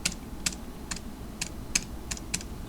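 Computer keyboard keys, the space and enter keys, pressed one at a time in a light, fairly steady rhythm of about eight clicks, close and clear over a low background hum.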